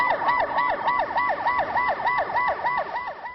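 Coast guard patrol vehicle siren wailing on a beach at Daecheon in the evening, a loud, close, steady two-tone yelp cycling rapidly about three times a second, with no talk.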